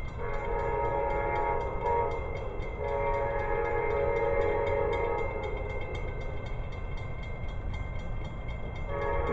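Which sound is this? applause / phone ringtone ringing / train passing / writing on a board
train passing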